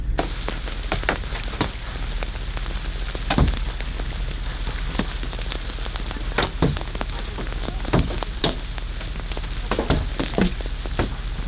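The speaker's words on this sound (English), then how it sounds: "Just had some large hail here." Large hail, bigger than golf balls, pelts a car during an Alberta storm chase, with scattered sharp, loud thuds and cracks striking irregularly over a continuous roar of heavy rain.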